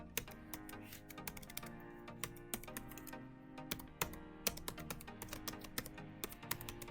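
Rapid keystrokes on a computer keyboard, typing into a web browser's address bar, close and crisp, with a steady stream of quick taps and a few heavier key presses, no voice.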